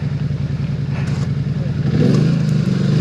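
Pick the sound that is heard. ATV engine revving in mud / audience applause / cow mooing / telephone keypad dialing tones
ATV engine revving in mud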